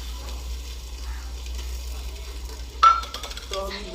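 Meat dropped into a pan of fried ginger and garlic for a village-style shalgam chicken curry, a soft steady sizzle broken by a sharp clatter and stirring scrapes near the end; a voice talks faintly underneath.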